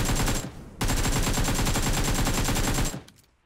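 Sustained automatic gunfire in PUBG Mobile shooting to break ice, a loud rapid stream of shots that cuts briefly, then resumes steadily before stopping abruptly with a short fading tail.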